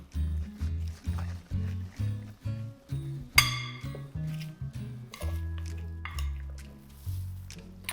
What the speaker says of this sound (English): I'm going to mix that in.